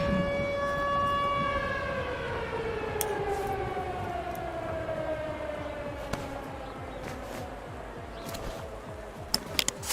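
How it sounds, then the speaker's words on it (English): A civil defense siren in the Drug Dealer Simulator game wails with a long, slowly falling tone over ten seconds, steady and fairly loud, with faint clicks and a few sharp taps near the end. "that's the same siren for Ukraine."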